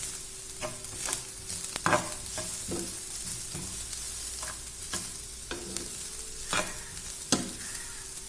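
Pepper powder frying in a pan while being stirred, a steady low sizzle broken by repeated scraping strokes of a spoon against the pan, close and with no talking.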